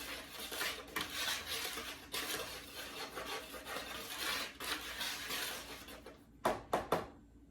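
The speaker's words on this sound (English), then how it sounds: "I like to do my baking powder and my flour by themselves. And so I'm mixing that and just stirring that up." Flour and baking powder are stirred together in a bowl, a spoon scraping and rubbing against the sides in an uneven rhythm, close and fairly quiet, ending with a few sharper knocks and no voices.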